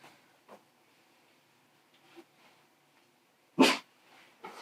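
A puppy gives a single loud bark close by during a board game session, with a few fainter yips and small noises scattered before and after it.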